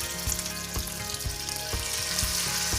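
A small test piece of food dropped into hot frying oil crackles and sizzles steadily with broadband hiss, popping with a few low thumps, close and fairly loud, no voices.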